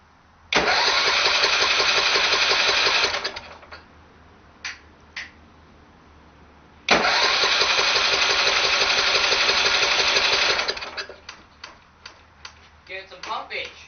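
A cold 10hp go-kart engine sputters on full choke in two loud cranking bursts of fast, steady mechanical chatter, each lasting a few seconds and then dying away, with clicks and a few sharp knocks between them.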